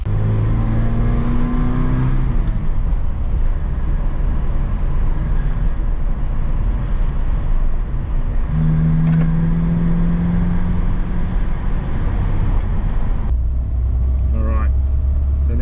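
Mitsubishi Sigma fitted with a Weber 32/36 carburettor driving, its engine droning and rising in pitch through a couple of revving pulls, with road noise underneath and someone talking over it.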